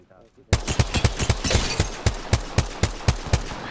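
Rapid gunfire from the Apex Legends video game opens abruptly after a brief quiet moment, then settles into a steady string of loud, closely spaced shots.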